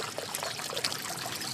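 Aqueduct water trickles steadily from a Roman public drinking fountain topped with a she-wolf, a continuous close, bright splashing stream with no talk over it.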